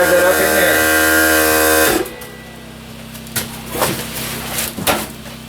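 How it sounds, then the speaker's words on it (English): A compressor hum runs steadily, then stops. A pneumatic brad nailer fired by an air compressor follows with a few sharp, separate snaps as it drives nails into wood trim for tiny-house lighting. "Now I'm going to use my impact, or my brad nailer, to drive that"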